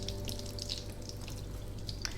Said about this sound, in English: You want to use cool water to final rinse it